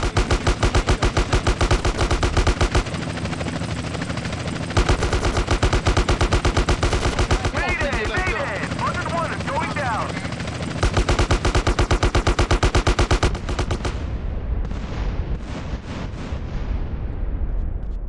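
Rapid gunfire in the Grand Theft Auto: San Andreas video game, dense automatic bursts almost nonstop and loud for the whole stretch, with brief gaps and shifting tones toward the end.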